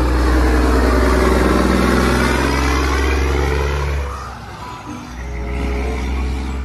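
A tanker truck engine revs in a steady loud drone for several seconds, then drops away briefly before rising again.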